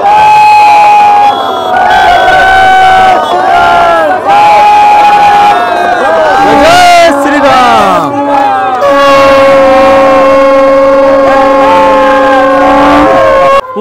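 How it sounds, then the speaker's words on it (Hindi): Dense crowd at the fair in Ayodhya, a loud, constant wash of many voices with long wailing horn- or siren-like tones sliding and holding over the throng, very close and saturated. "इधर तो बहुत ज्यादा भीड़ है भाई।"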